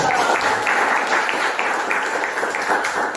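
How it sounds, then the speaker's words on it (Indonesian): Students in a classroom clap their hands together on the teacher's cue, an even, continuous patter of many hands at moderate loudness with no voices over it. "Oke, tepuk tangan dulu"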